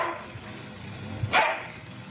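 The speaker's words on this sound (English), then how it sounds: "I said generate a dog barking, and it did" AI-generated dog barking, a single synthetic bark standing out briefly over a steady hiss of background noise, with no voices.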